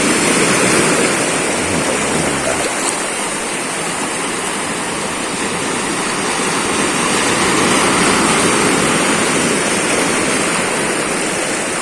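Large waves on a river in General Nakar, Quezon, rushing and crashing in a loud, steady roar close by, with no talking.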